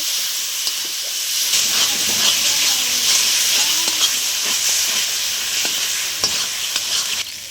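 Turmeric, red chilli and ginger-garlic-tomato paste sauté in a pan for a chicken and hill potato curry, giving a loud, continuous sizzling hiss broken by scraping stirs and occasional clicks of the spoon.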